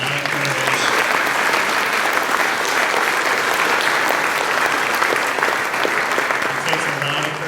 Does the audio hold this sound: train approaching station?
no